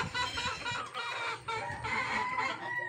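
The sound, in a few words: young pigeons in a loft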